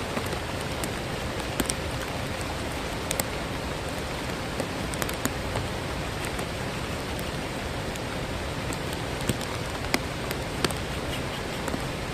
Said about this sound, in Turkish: Trabzon'da yağmur durmuyor.